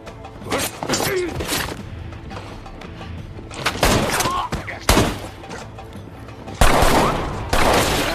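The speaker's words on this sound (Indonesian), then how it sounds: "di sana terjadi baku tembak yang sengit antara mereka" Fierce movie shootout from the mercenary action film Extraction, with bursts of gunfire, booms and shattering impacts in several loud clusters, backed by a dense, busy soundtrack.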